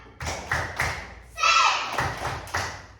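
Students in an Indonesian classroom perform a rhythmic spirit clap, with a run of sharp claps and thumps in a steady beat, then a burst of children's voices in the middle before the pattern of claps resumes.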